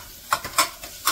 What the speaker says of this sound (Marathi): तेल सुटोपर्यंत परतून घेतले.